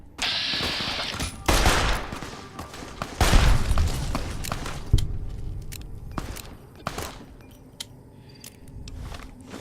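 Grenade explosions in modded Fallout New Vegas: several loud, heavy blasts land a second or two apart amid crackling gunfire and footsteps, then sharper scattered shots follow as the barrage thins out.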